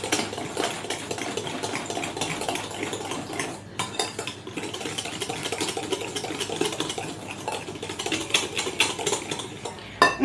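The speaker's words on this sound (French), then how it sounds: "On peut fouetter bien plus fort." Carrot cake batter whisked hard by hand in a bowl, a fast, steady metallic clatter of whisk against the bowl, close and continuous with a brief pause midway.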